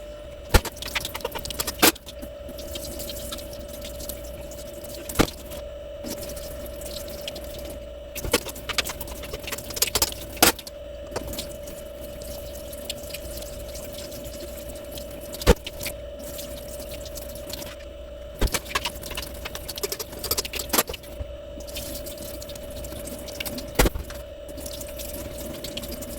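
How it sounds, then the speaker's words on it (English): Rice being washed by hand in a Saladmaster saucepan, with intermittent wet swishing, rattling grains and clinking against the pan in bursts over a steady background hum. "Just gonna quickly wash the rice and then fast forward that section."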